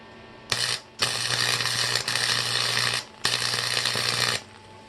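Tack welding a wheel onto a mud mower gives four close bursts of harsh, crackling electric buzz with a steady hum underneath, each lasting about a second, separated by brief gaps of near silence.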